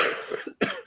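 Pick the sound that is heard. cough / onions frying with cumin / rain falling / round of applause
cough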